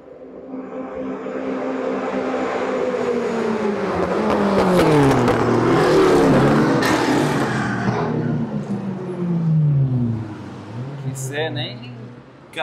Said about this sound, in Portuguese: Camaro e a GTzinha juntos ali